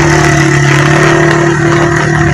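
A motorcycle engine revving hard on a flooded highway, loud and close, a steady buzzing drone with a strong tonal hum throughout, no pauses.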